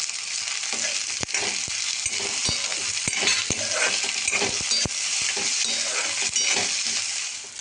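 Peanuts roast in a pan for rava upma, a constant close sizzle broken by repeated sharp clicks and scrapes of stirring, no talking.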